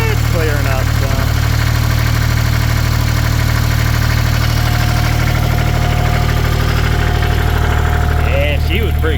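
An excavator's diesel engine idles after a cold start, a steady, loud, low throbbing drone that holds constant throughout, with people talking faintly nearby.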